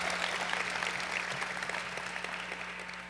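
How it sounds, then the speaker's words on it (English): Audience applause at a 50th anniversary celebration for a university cultural center, steady dense clapping filling the room throughout a short stretch with a faint hum underneath. "That's something to clap about."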